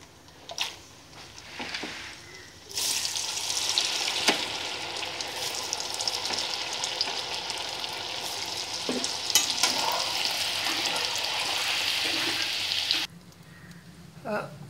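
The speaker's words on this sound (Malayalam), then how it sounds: "അപ്പോൾ ആദ്യം നമുക്ക് അണ്ടിപ്പരിപ്പ്, മുന്തിരി അങ്ങനെയുള്ള സാധനങ്ങളൊന്ന് വറുത്തെടുക്കാം." Cashews and raisins fry in sunflower oil for a sweet poha mixture; after a few quiet clicks, a loud, continuous sizzle swells for about ten seconds with light stirring, then cuts off abruptly.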